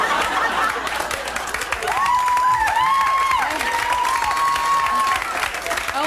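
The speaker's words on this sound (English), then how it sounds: "Only women applaud" A late-1980s stand-up comedy audience applauds and cheers steadily, a dense wash of clapping with laughter and a voice rising over it.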